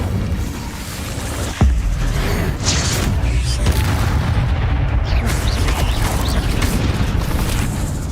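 A fire spell cast in the video game Hogwarts Legacy lands with a sharp, loud impact, followed by rumbling booms and whooshing magical effects that continue densely through the combat.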